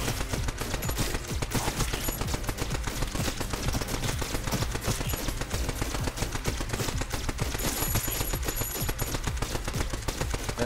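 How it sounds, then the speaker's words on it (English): Rapid continuous turret gunfire in the video game Neon Abyss: dense, rattling automatic shots fire nonstop for the whole stretch, loud and busy, with other game effects mixed in. "then you toss it in here, and then start shooting things everywhere"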